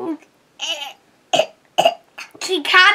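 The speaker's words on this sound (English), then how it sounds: "She's coughing." A child coughs a few times in short, sharp bursts, spaced apart, with some brief vocal noises mixed in; close and fairly loud.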